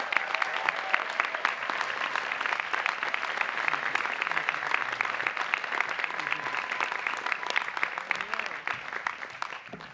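A commencement audience at Amherst College applauds honorary degree recipients, producing a dense, sustained wash of many hands clapping in a large space, moderately distant and even throughout.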